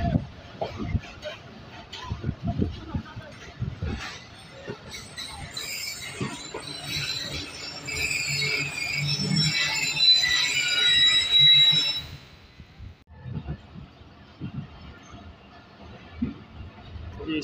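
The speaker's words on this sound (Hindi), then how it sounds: "कोटरी रेलवे जंक्शन से डिपार्चर कर रही है 47 अप, 2 मिनट पहले अपना टाइम से चल रही है।" The 47 Up Rehman Baba Express train departs Kotri Junction in Pakistan, with clattering wheels and rumble swelling into a loud, sustained metallic screech, then fading to quieter rolling noise. Voices are heard faintly in the background.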